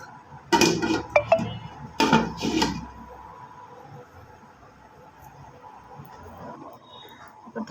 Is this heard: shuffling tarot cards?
no